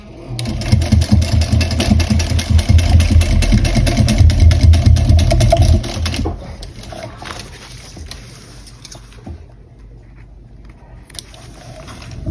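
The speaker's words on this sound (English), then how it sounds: "we're going to top stitch that seam we just sewed." A sewing machine runs steadily for about six seconds, top stitching a seam on the gusset of a small bowler bag, then stops, leaving quiet handling noises.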